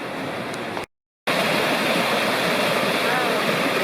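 Bragg Pond Creek rushes steadily in a wilderness area, a loud, broad, close wash of flowing water broken only by a brief gap of silence.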